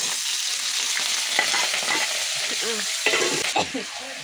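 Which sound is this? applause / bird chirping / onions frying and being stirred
onions frying and being stirred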